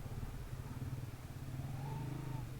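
A motorcycle rides slowly through a village on a mountain road toward a valley, its steady low engine drone close and continuous, with a slight rise in pitch near the end.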